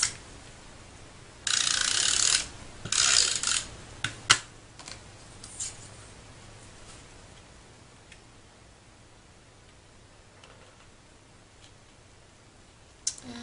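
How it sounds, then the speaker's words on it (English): A tape runner dispenses adhesive across card stock in two bursts of rapid clicking ratchet sound, close and alone, followed by a few faint ticks and quiet taps. "So I'm just going to run a little bit of tape runner on both sides of this."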